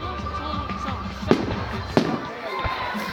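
A bonfire night fireworks display at Concers sets off two sharp, loud bangs about a second apart over a low rumbling background, with people talking nearby.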